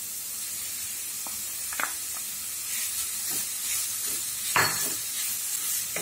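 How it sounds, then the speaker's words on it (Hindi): Grated beetroot and carrot sauté in a pan with a soft, steady hiss, broken by occasional scraping stirs and a louder stroke near the end; no voices are heard. "इसको भी थोड़ा भूनेंगे और इसमें हम ग्रेट किया हुआ गाजर डालेंगे।"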